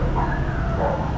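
A small dog in a busy Vietnamese market in Ho Chi Minh City gives a short yip or bark, close by and brief, over steady crowd and street noise.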